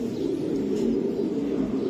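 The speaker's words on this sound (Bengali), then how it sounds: "এটা জি এটা একটা নর কবুতর ভাই" A male racer pigeon coos in a low, sustained rolling drone, close and steady throughout with no talk.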